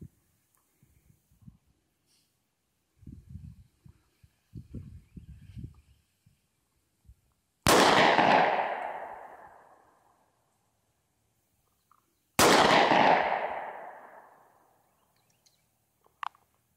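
Two loud, sharp gunshots from a firearm ring out about five seconds apart, each leaving a long fading echo, after a stretch of quiet shuffling and handling noises.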